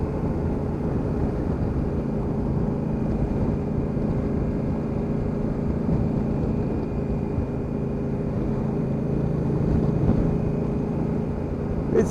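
A 2019 Honda CRF1000L Africa Twin motorcycle is ridden on the road, heard as a steady, unbroken drone of engine and rushing wind at a constant level.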